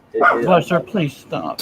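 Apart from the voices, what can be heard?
dog barking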